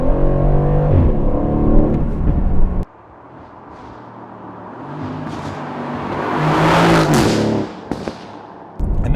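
An Aston Martin supercar engine roars while driving, loud and close. After a steady drone it abruptly cuts out, then swells again into a rising rev that peaks near the end before another brief cut.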